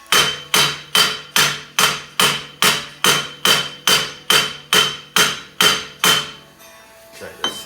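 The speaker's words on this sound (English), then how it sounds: "I'm kind of like hammering it outward." Twelve evenly spaced, loud metallic hammer blows strike the rear wheel hub of a 2009-2017 Dodge Journey AWD during a bearing replacement, each ringing briefly before the next, then the strikes stop and a brief rustle follows.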